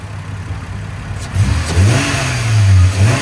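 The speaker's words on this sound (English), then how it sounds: "Rev it real quick, Timmy." A 1997 Lexus LX 450 4.5L inline-six engine with a Borla ProXS exhaust revs up twice, rising and falling in low tones, with a faint exhaust rattle audible underneath.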